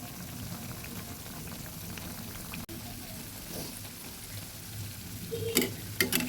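Cabbage pakoras fry in oil over medium heat with a steady, gentle bubbling sizzle, and a few sharp metallic clinks come near the end.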